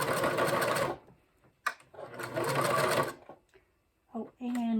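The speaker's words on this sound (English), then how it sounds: "Then we're going to backstitch a little." A sewing machine stitching a crochet rug project runs in two loud bursts of about a second and a half each, separated by a brief pause, with someone speaking near the end.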